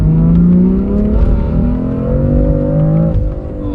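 A BMW G80 M3 fitted with a Vargas turbo kit accelerates hard on a wet, rainy street, its engine note climbing steadily in pitch, loud and close throughout, with a brief dip near the end.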